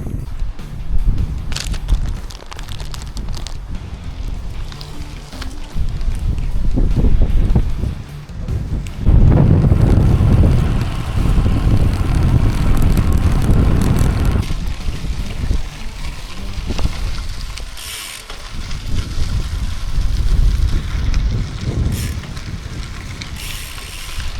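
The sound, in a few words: strong west wind while cycling along the Loire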